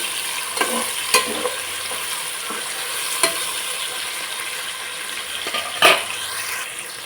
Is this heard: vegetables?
yes